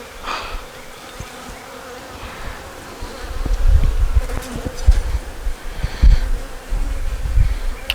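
Honeybees buzz steadily up close around a hive, a busy droning hum with louder thumps and bumps around it.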